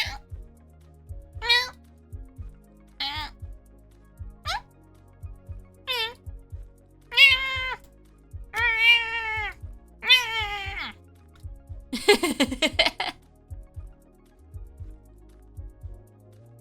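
A cat meows repeatedly, with about eight distinct calls of rising and falling pitch spaced across the stretch. A harsher, drawn-out yowl comes near the end, and faint low thumps and clicks sit underneath.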